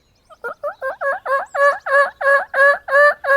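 A man imitates a wild turkey's gobbling call with his mouth, a run of about a dozen rapid, rising yelping notes that grow louder and closer together, heard alone and up close.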